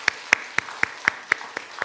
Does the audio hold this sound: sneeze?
no